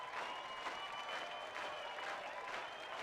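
Crowd cheering and applause in the Guitar Hero 2 video game, a steady dense roar from a large in-game audience filling the whole stretch at even loudness.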